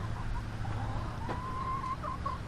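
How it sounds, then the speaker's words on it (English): Backyard chickens in a hot greenhouse cluck softly and intermittently over a steady low background hum, with a few short clucks and no talk. "Chickens are doing good."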